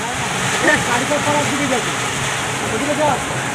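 A heavy monsoon downpour forms a dense, steady hiss of rain throughout, with a person talking over it.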